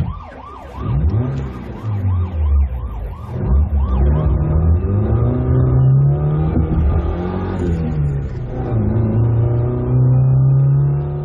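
A car engine revs hard and accelerates in a radio crime drama, the roar climbing and sustained at close range, with a wailing siren sweeping repeatedly through the first seconds.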